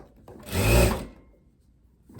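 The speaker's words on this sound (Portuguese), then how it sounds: "E além da gente costurar, a gente vai pespontar." A sewing machine topstitches linen in one short burst that swells and fades over about half a second, close and fairly loud, with quiet room tone around it.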